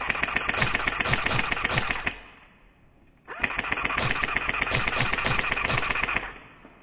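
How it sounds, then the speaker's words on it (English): Airsoft gun firing BBs during a search-and-destroy game in an indoor factory, two sustained rapid bursts of sharp mechanical shots separated by a short pause, close and loud. "my gun was definitely functioning properly and firing BBs"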